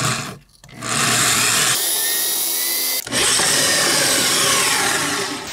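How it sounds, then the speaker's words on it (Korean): A power drill bores a hole in wood for a homemade foam cutter, a loud, close, continuous whine with a brief pause near the start and a short break midway before it resumes. "여기서부터 7cm 떨어진 부분에다가 구멍을 하나 뚫도록 하겠습니다"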